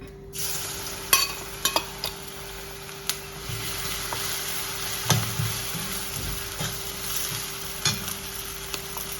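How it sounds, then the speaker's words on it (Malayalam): Bitter gourd pieces fry in oil with a continuous sizzle, punctuated by sharp clicks and spoon-against-pan scrapes from stirring, close by and without talk. "ഇനിയിപ്പോൾ അതിനെ നമ്മൾ നന്നായിട്ട് വറുത്ത് കോരണം എണ്ണയിൽ വറുത്ത് കോരി എടുത്ത് വെക്കണം"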